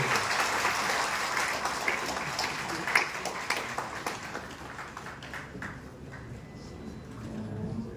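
Audience at a cultural organization's event claps, dense at first and then thinning into scattered claps that fade out, fairly quiet and somewhat distant.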